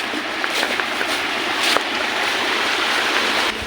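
Water rushing along an irrigation canal through rice fields in Bohol, Philippines, a loud, steady broadband roar of flowing water, close by and continuous without talk.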